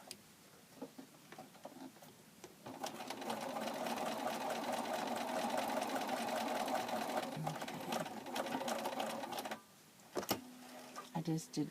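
A sewing machine runs steadily for several seconds while stitching a locking seam on a pocket, stopping briefly with a few quieter starts near the end; a voice speaks softly in the gaps at the beginning and end.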